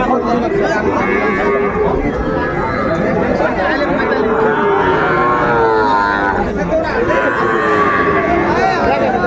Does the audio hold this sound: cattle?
yes